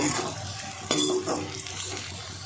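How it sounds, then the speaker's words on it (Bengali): Pasta snacks deep-fry softly in hot oil, with a few light scraping and clinking sounds of stirring, fairly quiet. "মোটামুটি এইভাবে ভেজে নিতে হবে, খুব লাল করব না"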